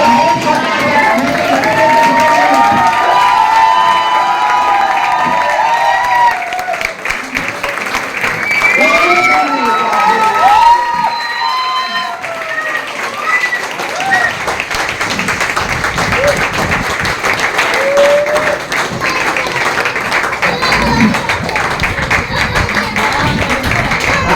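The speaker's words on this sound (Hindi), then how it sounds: "एक बार हम शानदार जबरदस्त ताली के साथ खड़े होकर उनको स्टेज पर आमंत्रित करेंगे" Audience at a network marketing celebration event applauding and cheering continuously as a guest is invited onto the stage, the clapping dense and sustained with crowd voices and an announcer's amplified speech mixed throughout.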